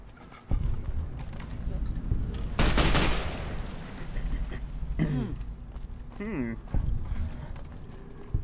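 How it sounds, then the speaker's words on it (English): Gunshots from Fallout New Vegas: loud broadband bursts, including a dense volley around the middle, over game ambience, with voices talking in between. "I might shoot some people in the chest."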